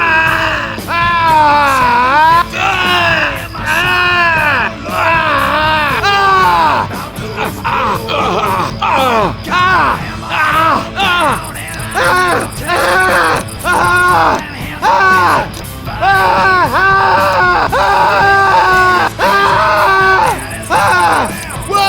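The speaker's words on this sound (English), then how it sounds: "So anyways, do you wanna listen to some Nick screams?" Repeated screams and yells from the survivor Nick in Left 4 Dead 2, a rapid series of loud strained vocal bursts, one after another with brief gaps, some overlapping into a crowd-like babble.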